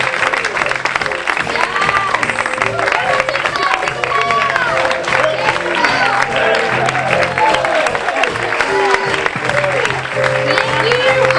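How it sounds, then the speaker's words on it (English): An audience applauds performers at a holiday show's curtain call with loud sustained clapping and some cheering, under bright musical tones and a few voices. "We're going to bring all of our performers up for an applause."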